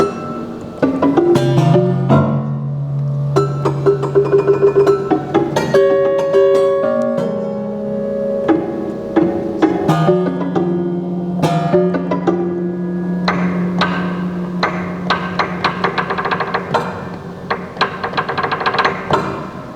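Prepared piano improvised with sounds in place of clear pitch, giving a string of plucked, knocking and struck tones with buzzing, ringing sustains and irregular percussive attacks throughout, close and fairly loud with no talking.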